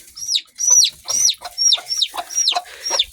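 Seven or so shrill, downward-sliding peeps from a chick follow one another in quick succession at close range, with a hen faintly present and no talking.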